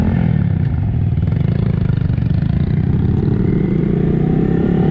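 A small Honda Monkey motorcycle rides off-road on a back-country enduro, its engine droning loud and close without a break, with rough mechanical clatter from the trail and no talking.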